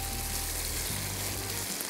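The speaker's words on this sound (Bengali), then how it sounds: "এখন আমি চিকেনটা দিয়ে দিব তেল উঠে গেছে" Boneless chicken pieces dropped into hot oil, a steady dense sizzle and crackle of frying filling the whole stretch at close range with no talk.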